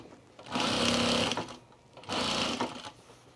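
A sewing machine stitches binding onto a pot holder in two steady runs of rapid whirring, with a short pause between them as the fabric is turned at a corner.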